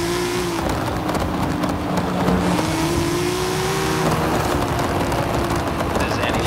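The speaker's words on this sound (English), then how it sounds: "This anti-lag system sounds insane." A Toyota Supra with an anti-lag system in Forza Horizon 5 drones steadily with crackling, popping bursts on the throttle, loud and continuous throughout.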